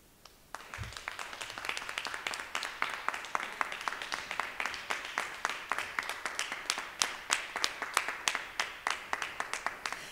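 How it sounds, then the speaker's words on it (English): An audience applauds at a university presidential inauguration ceremony, a sustained round of dense clapping that starts abruptly and continues steadily throughout. "Let's give another round of applause for Harris Stowe State University's 20th president, Dr. Corey S. Bradford."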